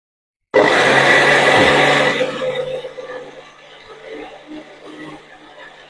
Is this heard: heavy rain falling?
no